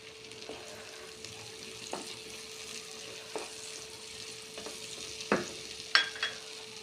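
Thinly sliced onions fry in a pan with a soft, steady sizzle and several sharp clicks and scrapes of stirring.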